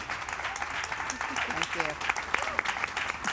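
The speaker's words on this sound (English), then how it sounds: "can we give this amazing panel just a huge round of applause?" Audience applause for a panel at a corporate breakout session, steady clapping filling the clip with a voice speaking briefly over it.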